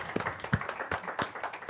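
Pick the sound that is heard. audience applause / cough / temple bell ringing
audience applause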